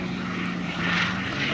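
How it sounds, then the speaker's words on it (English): Westland Lysander 3A propeller aircraft approaching to land at an airshow, a steady droning engine and propeller hum at moderate distance that swells slightly as it nears. "So the Lysander 3A, the final aircraft on today's programme to land."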